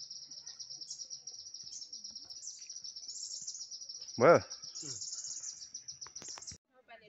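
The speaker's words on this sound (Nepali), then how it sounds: "यही हो चरा अहिले कराइरहेछ" A bird calls repeatedly in a Barsey rhododendron forest in Sikkim, its steady high chirping running through the whole clip over insect-like background, with a brief voice partway through.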